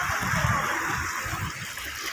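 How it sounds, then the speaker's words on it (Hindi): Sea waves wash onto a shoreline on a cool, overcast day, a steady broadband rush and surge of water that fills the clip close by, with no talk. "वेखो जी पानी की लहरा"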